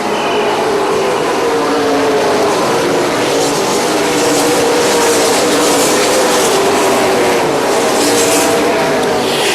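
Super late model race cars roaring away at the green flag, a loud, dense wall of engine noise from a pack of cars passing close and sustained throughout.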